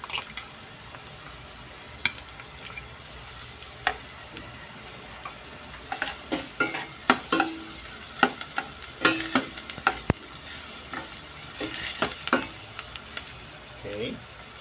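Garlic sautéing in a pan fizzes with a constant bright sizzle, broken by scattered sharp pops and the clacks of a utensil stirring against the pan.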